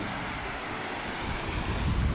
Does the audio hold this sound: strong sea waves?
yes